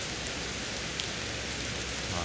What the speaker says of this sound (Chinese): 这段雨声是我觉得最好听的雨